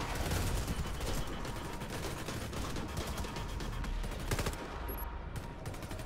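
Continuous rapid gunfire rattles through a battle in S.T.A.L.K.E.R. in Pripyat, dense and loud throughout, with sniper shots lost in the overlapping volleys.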